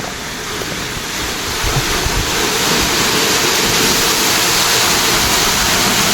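Water pours into a field irrigation channel in a village, making a loud, continuous rushing roar that swells slightly after the first second and then holds steady, with no talking.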